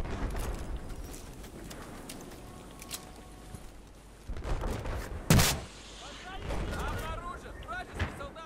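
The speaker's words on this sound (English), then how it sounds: "I'm getting shot from behind." Gunfire crackles in a Battlefield 4 firefight, scattered shots and a sharp loud burst midway, with talking voices over the top.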